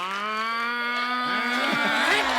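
A human voice imitates a buffalo with one long, loud, low moo that stays strong before breaking up near the end on a comedy show stage.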